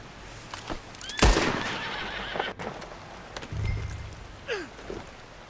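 In the Red Dead Redemption 2 video game, a horse lets out a sharp close whinny followed by hoofbeats clopping and rustling, then a second softer neigh near the end.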